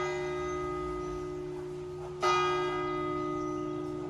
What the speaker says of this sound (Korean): 지금 8시 아직 안 됐는데 왜 8시 종이 벌써 치지?